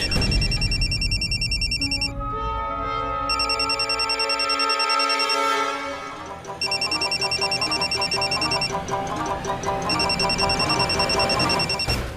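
A phone rings with a repeating electronic melody, loud and close, playing continuously with brief changes in pattern.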